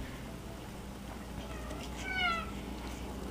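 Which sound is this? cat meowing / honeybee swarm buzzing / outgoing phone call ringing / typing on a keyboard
cat meowing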